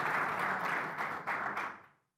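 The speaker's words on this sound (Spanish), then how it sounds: "Denle un aplauso al Señor." A church congregation breaks into applause with a dense, even burst of many hands clapping that fades away quickly near the end.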